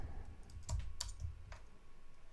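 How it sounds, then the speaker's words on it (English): A few scattered keypresses on a computer keyboard, soft clicks spaced irregularly over a low background hum, fairly quiet and close. "keyboard."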